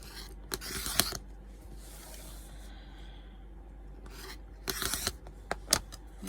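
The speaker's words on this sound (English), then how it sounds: "cut around the edges with a circular board, well, a turning board" Fabric edges trimmed on a rotating cutting board, with two short close bursts of rough rasping cuts separated by a quieter stretch of faint handling.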